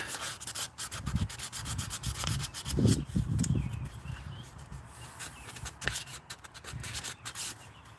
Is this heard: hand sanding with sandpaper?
yes